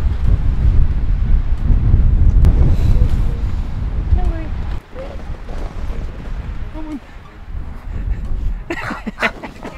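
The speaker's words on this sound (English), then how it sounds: "What makes it harder is just the wind gusting in our face." Strong wind gusts roar at high elevation on a mountain viewpoint above Banff, buffeting the microphone in heavy, uneven surges that ease somewhat midway, with occasional chirps over the rumble.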